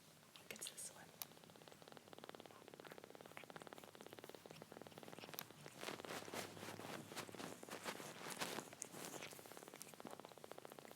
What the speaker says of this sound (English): Little teeny tiny purr.